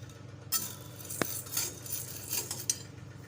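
Chana dal dry-roasted in a pan for Diwali chakli bhajani: close spatula scraping and stirring, with a few sharp metallic clinks and no talk.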